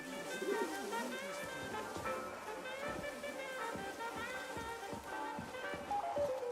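Doves or pigeons coo steadily in the game Atomic Heart, a layered, continuous cooing of several birds over soft ambient rain-like noise, fairly close and clear.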